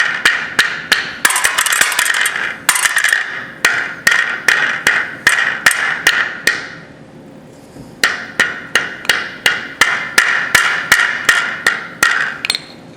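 A hammer beats on a piece of metal heated very hot, delivering steady rhythmic sharp ringing blows in two long runs separated by a short pause, loud and close.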